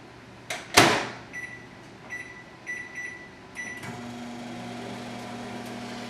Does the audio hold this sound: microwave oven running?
yes